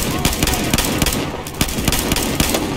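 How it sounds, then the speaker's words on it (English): Loud, rapid automatic gunfire in the video game Battlefield 4's Shanghai campaign, sharp shots rattling out in a quick steady rhythm over a rumbling engine-like background. "Who the fuck is shooting me from there?"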